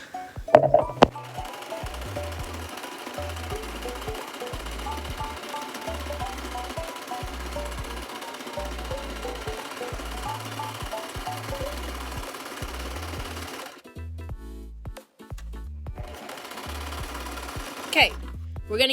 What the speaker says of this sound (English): Time to sew!